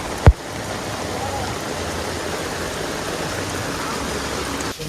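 Rainwater runs and drains along a Colombo street in a steady, close wash of trickling and splashing. A sharp knock comes near the start and a brief thump at the end.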